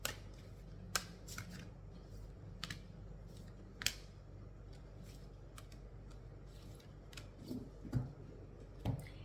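Tarot cards are handled up close, producing quiet scattered flicks, taps and soft shuffling sounds at an irregular pace over a faint background hiss.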